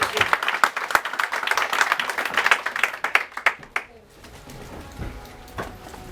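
A church congregation at a French-language conference evening service claps loudly for several seconds, then the applause fades out into quiet room sound.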